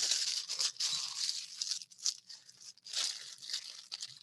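Plastic bags being handled and pressed together at the corners while preparing a piping bag for herb cooking: close, continuous crinkling and rustling with brief pauses, no talking.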